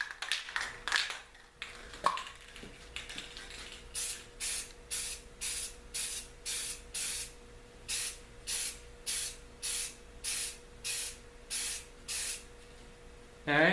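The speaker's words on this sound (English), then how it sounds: "And I'm going to go ahead and spray paint it." Spray paint hisses onto a taped-up LED turn signal part in quick, evenly spaced bursts, about fifteen short blasts in a steady rhythm, close and clear, with a few taps and rustles heard before the spraying starts.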